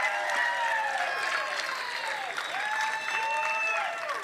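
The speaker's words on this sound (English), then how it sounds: "Fans are cheering for a Grand Slam bronze medal match on grandstand across the way." Fans at a distant grandstand applaud and cheer for a Grand Slam pickleball bronze medal match, a steady wash of crowd noise across the way, while bird-like whistling tones drift over it.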